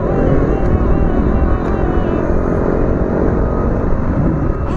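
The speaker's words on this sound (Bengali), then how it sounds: "ওই দেখো হুইলি মারছে, দেখো দেখেছো?" A motorcycle engine roars loudly and steadily nearby as a rider pulls a wheelie on the road, a sustained close drone with no clear pauses.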